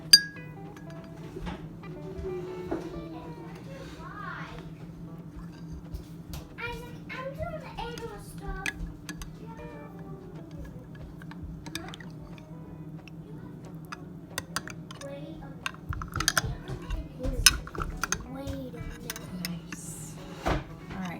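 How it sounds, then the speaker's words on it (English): A metal spoon clinks against a glass jar while stirring clabber culture into fresh milk for cottage cheese in a farm kitchen, faint scattered taps under a low steady hum, with a voice briefly heard. "So we're taking a spoonful to inoculate the fresh milk. Stir it up a little."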